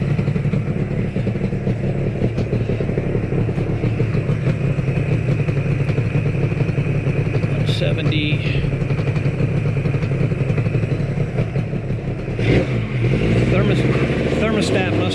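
A Yamaha RZ350 two-stroke motorcycle engine idles steadily and loud up close just after startup, a continuous throbbing rumble with brief clatter, with a person talking over it.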